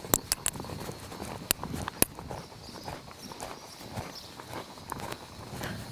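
A horse moving through gaits during a turn-training session, its hooves producing irregular muffled beats on soft ground with a few sharper impacts, fairly quiet and steady throughout.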